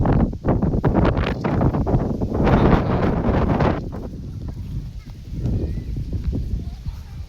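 Strong gusty typhoon wind blows outdoors, roaring and buffeting the microphone in loud, rough bursts that ease slightly toward the end, with people talking over it.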